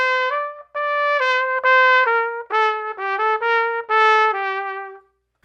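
Etude phrase played in a lilting waltz style, with a boom-chick-chick feel: a clear, bright melodic line of sustained and slurred notes in an uneven triple rhythm, close and alone.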